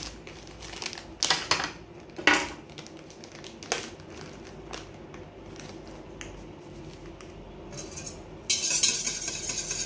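Glutinous rice flour is stirred into bibingka batter, with scraping and clinking utensil taps against a bowl, irregular and close, with no talking.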